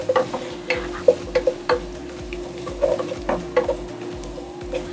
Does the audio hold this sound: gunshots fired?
no